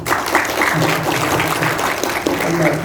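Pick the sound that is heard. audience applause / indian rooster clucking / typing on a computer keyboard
audience applause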